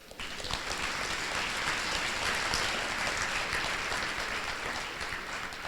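Audience applause at a university awards ceremony, a steady wash of many hands clapping that holds at an even level for several seconds with no voices.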